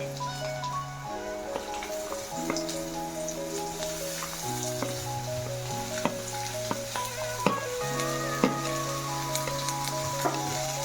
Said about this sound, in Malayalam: ഇനി എല്ലാം കൂടി നന്നായി ഒന്ന് വഴറ്റി കൊടുക്കാം.